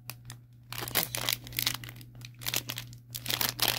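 A thin plastic packet from a parcel of costume jewellery is crinkled and pulled at while being opened, giving steady close rustling and crackling over a low constant hum.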